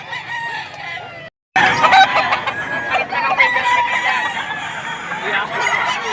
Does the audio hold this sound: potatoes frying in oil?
no